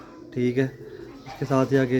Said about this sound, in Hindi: ये एक मगर कबूतर है, कसूरी का मगर कबूतर है